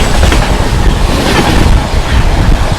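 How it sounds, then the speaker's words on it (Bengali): An express train speeds through Bagnan railway station, a loud, continuous roar of rushing wheels and wind that fills the whole stretch without a break. "সামনে আরও একটা দ্রুতগতিতে এক্সপ্রেস ট্রেন আসছে"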